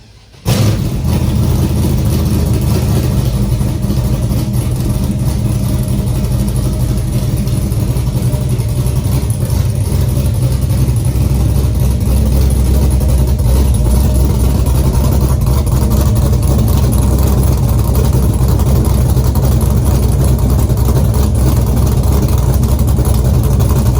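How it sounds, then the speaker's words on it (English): A cold start of an S10 pickup swapped with an LS 5.3 V8 and running straight open headers, which fires up abruptly and then holds a loud, steady, rumbling idle close by for the rest of the time. "let's do one more cold start with the straight open headers"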